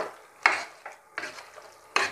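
Fried onions are stirred into cooker biryani in a pot, with four short scraping, sizzling stirs separated by near-silent pauses, close and fairly quiet.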